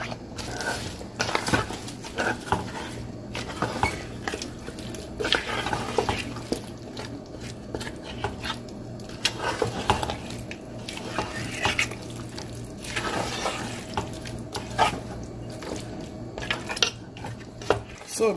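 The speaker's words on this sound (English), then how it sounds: "So guys, I'm toasting my ogbono." Ogbono being toasted in a pot while a spoon stirs it, with steady scraping and clinking of utensil against the metal pot and a faint sizzle underneath, continuous and close, no talking.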